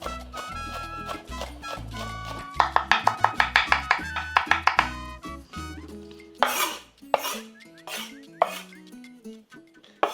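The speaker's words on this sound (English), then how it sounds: "Give this garlic a chop." A knife chops garlic on a board in a rapid run of crisp close taps, then slower scattered knocks, over background music.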